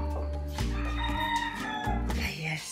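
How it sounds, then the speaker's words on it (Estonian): A rooster perched on a roost in an Estonian country yard crows in a loud, drawn-out call lasting a couple of seconds, with strong low background sound running throughout. "Näed, kukk on seal."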